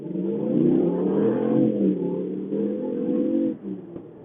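A Ram 1500 pickup fitted with a cold air intake accelerates hard with a steady, aggressive engine roar that holds strong for several seconds, then dips briefly near the end.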